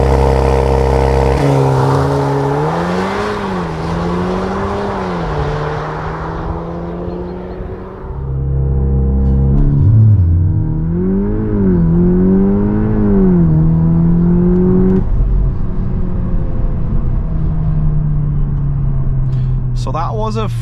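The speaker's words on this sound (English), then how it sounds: "0 to 100 in launch control mode." A 300 hp Volkswagen T-Roc R facelift on stock 19-inch tires launches from standstill in launch control mode, its engine roaring loudly with rising revs that drop and climb through quick gear shifts, then fade as the car speeds away.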